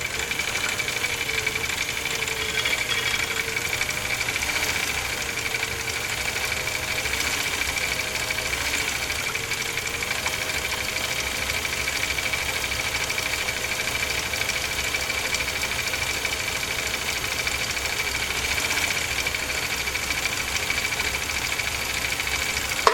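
A Husqvarna Viking Type 21 sewing machine stitches through leather with a continuous, loud, rapid mechanical chatter and hum that runs without a break.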